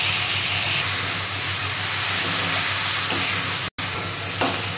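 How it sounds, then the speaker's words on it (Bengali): Shrimp fry lightly in a hot pan, a dense steady sizzle and hiss that runs almost without a break, broken only by a brief silent gap near the end. "চিংড়ি মাছগুলো আমি আর একটু ভেজে নেব, খুব একটা ভাজবো না, হালকা করেই ভাজবো"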